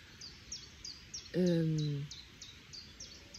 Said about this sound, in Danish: når fuglene, de har jo nogle sjove lyde nogle gange